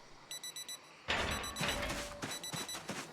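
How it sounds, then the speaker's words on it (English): Digital wristwatch alarm in the Project Zomboid video game, beeping in short rhythmic bursts of four, then continuing under louder clattering game noise and thumps. "The alarm is over."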